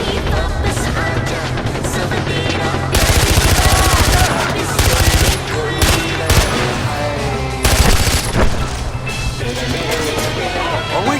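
Rapid automatic gunfire from a vehicle-mounted gun in the Far Cry 4 video game, loud dense bursts of shots with short pauses between them, under a busy background of game action and engine noise.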